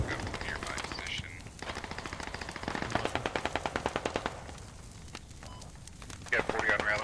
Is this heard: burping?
no